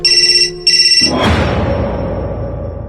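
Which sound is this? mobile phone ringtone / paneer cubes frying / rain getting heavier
mobile phone ringtone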